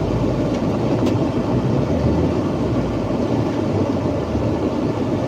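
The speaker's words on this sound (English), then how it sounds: "Let's get the blower on, warm the van up." A van's heater blower roars steadily at full fan, a dense broadband whoosh that stays loud and unchanging throughout, close up with no voices.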